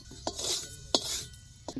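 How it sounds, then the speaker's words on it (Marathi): Sesame and cumin seeds roasting on a hot griddle in a home kitchen, giving a few sharp crackles and pops over a soft sizzling hiss, close and fairly quiet. "असं चट चट तीळ उडाला आलं की नाही काढून घ्यायचं"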